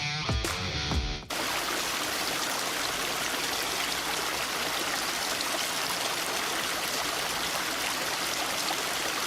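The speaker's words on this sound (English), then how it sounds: "The sounds of a waterfall." A waterfall rushes in a steady, full, unbroken roar that follows a short musical jingle at the start.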